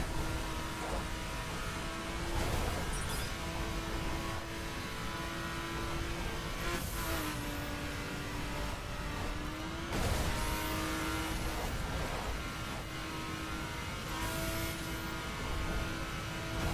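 A RUF 3400 K engine in The Crew, revving hard and climbing through the gears, with rising whine and gear shifts repeating, loud and continuous throughout.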